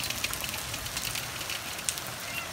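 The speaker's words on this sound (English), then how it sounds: "Oh, hail's getting bad again." Hail from a night hailstorm patters steadily on surfaces, a dense broadband rattle with a few sharper nearby impacts standing out, fairly faint and continuous throughout.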